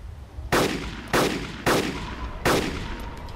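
Four loud, sharp gunshots in the video game DayZ Epoch, set in foggy Namalsk, evenly spaced with short echoing tails and a quiet background.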